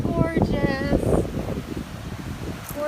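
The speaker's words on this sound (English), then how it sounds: "it's getting a little windy out here" Gusty wind buffets the microphone outdoors on a Gulf beach, a steady low rumble with voices talking over it.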